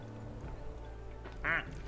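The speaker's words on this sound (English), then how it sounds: "Also normal boring duck noise." A single squeaky rubber duck quack sounds in the Placid Plastic Duck Simulator game, a short bright toy squeak standing out over a low steady game background hum.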